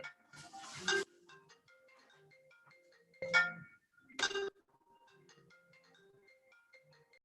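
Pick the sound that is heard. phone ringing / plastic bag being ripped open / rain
phone ringing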